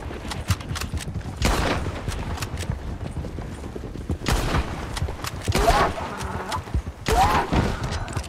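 Sharp gunshot reports ring out during a hunt in Red Dead Redemption 2, scattered among clattering horse hoofbeats and mechanical clicks, with several distinct bursts spread across the stretch.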